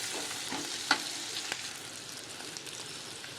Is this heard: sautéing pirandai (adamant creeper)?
yes